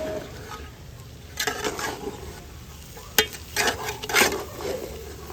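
Cauliflower is mashed with tandoori in a hot cooking pot, giving irregular bursts of scraping and stirring strokes against the metal with a faint sizzle underneath.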